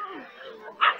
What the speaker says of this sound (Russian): Вот опять вот эта красавица собачка.